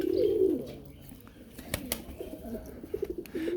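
Kept pigeons give a short close coo at the start, then quieter rustling, clicks and scattered chirps follow around the loft.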